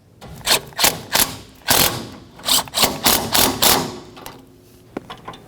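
Ratchet snugging the rear engine mount bolts on a 2003-2007 Honda Accord: a run of sharp, close clicking bursts in quick succession, pausing briefly, then a few fainter clicks near the end.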